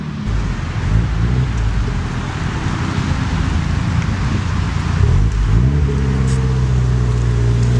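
Heavy traffic on a German Autobahn makes a continuous broad roar, with individual cars swelling and fading as they pass at speed.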